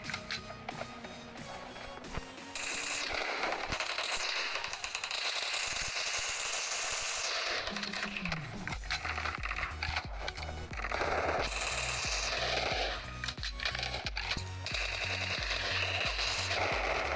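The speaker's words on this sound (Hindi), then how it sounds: "यार इतनी गोलियां चला रहा हूँ लेकिन बंदे को लग ही नहीं रही है" Rapid bursts of gunfire rattle from a mobile shooter game played on an Oppo A52 phone, rattling volleys with brief pauses, fairly quiet overall and mixed with game effects.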